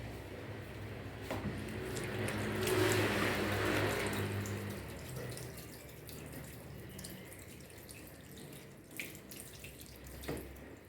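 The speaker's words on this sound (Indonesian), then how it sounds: "saya cuci tangan sebentar Bu ya" Hands being washed under a running tap at a sink in a clinical exam room, a steady close splash that swells midway and then settles to a softer flow with a few small knocks near the end.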